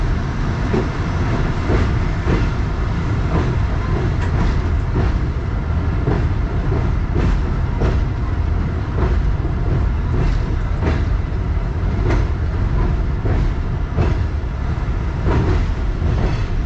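A passenger train runs on rails in winter near Chichoki Mallian station by the Chenab river, a loud, steady rolling roar with rhythmic wheel clacks throughout.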